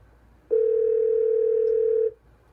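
A steady telephone dial tone plays loud and close for about a second and a half, starting and stopping abruptly against a quiet background.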